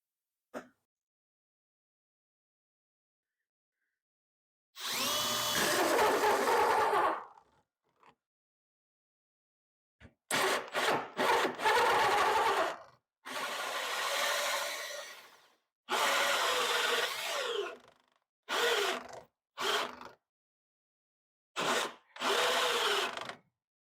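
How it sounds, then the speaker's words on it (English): A drill fitted with a 2 1/4 inch hole saw cuts through a wood board in several loud, whirring bursts of varying length, separated by silent pauses. "I'm going to get the 2 1/4 inch hole saw and drill a hole right there in the middle"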